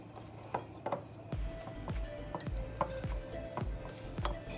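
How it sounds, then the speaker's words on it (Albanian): Repeated soft taps and scrapes of a fork mashing boiled egg yolks in a bowl, irregular rhythm, close and fairly quiet. "I shtypim mirë të kuqit e vezëve me pirun."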